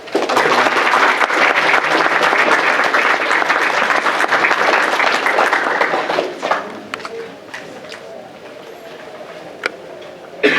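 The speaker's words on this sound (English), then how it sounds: "So please give a round of applause for our guest." An evening audience at a talk gives a dense, loud burst of applause for a guest speaker that carries for about six seconds, then fades into scattered claps and room noise.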